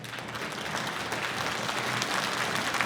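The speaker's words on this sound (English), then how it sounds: "Quick round of applause for Joe" Steady applause from the audience at an OutdoorLads annual general meeting, a dense continuous patter of many hands clapping at even loudness for the whole stretch, with no talk over it.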